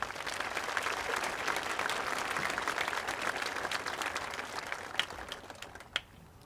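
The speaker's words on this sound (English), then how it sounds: "Can we give them a round of applause?" An audience at an 8th grade promotion ceremony applauds board of education members, a broad sustained clapping from a large room that thins out toward the end with a few last claps.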